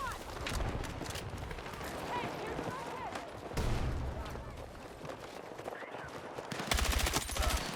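Gunfire in the shooter game Battlefield 6 crackles in bursts of rapid shots at moderate loudness, running steadily beneath excited talk from players.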